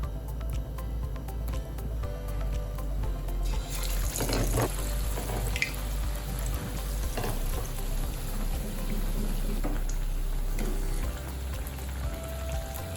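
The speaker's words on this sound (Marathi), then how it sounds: "तर हे वडे आपल्याला तळून घ्यायचे" Onion vadas frying in hot oil give a continuous bubbling sizzle, with a low hum underneath and occasional scraping clatter.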